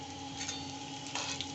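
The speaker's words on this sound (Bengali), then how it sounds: "এখন আমি এই ফোড়নটা এখানেই দিয়ে দিচ্ছি, একদম এর মধ্যেই দিয়ে দিলাম ফোড়নটা।" Whole spices tempered in hot oil over fried potatoes make a steady, close sizzle with brief louder crackles and a faint background hum.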